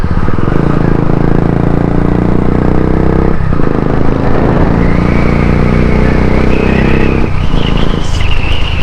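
A motorcycle fitted with a changed silencer revs nearby, loud and throaty, the engine note climbing and dropping in a few blips with a brief rattly dip midway.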